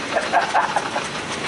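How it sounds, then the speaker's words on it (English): Steam traction engines haul a heavy load in the heavy haulage arena at the Great Dorset Steam Fair, making a steady, rushing roar of laboured exhaust with a few louder chuffs near the start, heard from some distance. "And all the engines pulling hard now."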